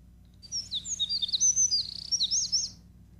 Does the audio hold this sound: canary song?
yes